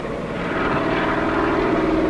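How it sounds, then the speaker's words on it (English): A UH-1N military helicopter flies overhead, a steady engine drone with a throbbing rotor pulse that grows slightly louder as it continues, with no voices present. "UH-1N helicopters equipped with minigun pintles have recently been deployed worldwide."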